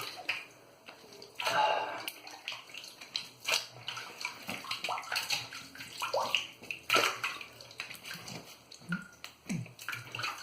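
Running tap water rinses shaving lather from a boar bristle shaving brush at a sink, with splashing surges and bursts of water as the brush is worked under the stream, close and steady for about ten seconds.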